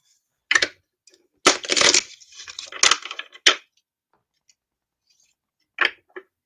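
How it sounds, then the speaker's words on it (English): A deck of cards shuffled close by in a few quick riffling bursts with pauses between them, the longest run lasting about two seconds, then two short flicks near the end. "I'm going to go ahead and just shuffle these up"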